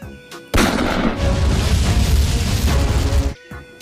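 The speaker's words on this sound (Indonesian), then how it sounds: "Nah, lihat teman, ini tembak-tembakan M4." A toy M4 gun fires a loud, continuous burst of electronic shooting sounds that starts abruptly, runs for about three seconds at steady volume, then cuts off.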